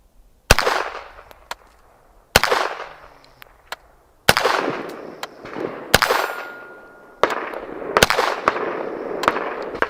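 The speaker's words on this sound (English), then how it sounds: "I may try a couple shots on that zeroing target here" Shots fired from a red-dot-sighted gun at a zeroing target: about five loud, sharp cracks at irregular intervals, each trailing into a long echoing decay, with a few fainter clicks between them.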